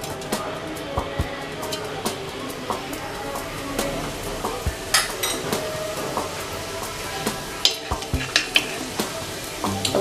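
Cumin seeds sizzle in hot oil with cardamom and cloves while a spoon stirs and scrapes the pan, giving a continuous frying hiss broken by clinks and scrapes, close and fairly loud, for shahi paneer.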